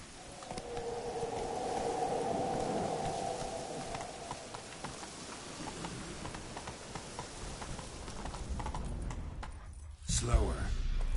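Horse hooves gallop in The Witcher 3, a rapid rhythmic clatter under ambient game sound that fades toward the end, with a voice speaking over it.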